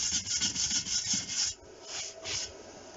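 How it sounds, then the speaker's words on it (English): A wire brush scrubs slag off a freshly made steel weld on a wood burning stove, a rapid rasping scrape in short repeated strokes, close and steady, briefly pausing before resuming more softly. "then you give it a bit of a brush"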